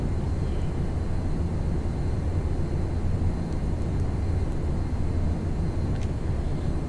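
Piper J-3 Cub light aircraft flying in Flight Simulator X, a steady, loud, continuous low engine drone with no change in level throughout and no voices.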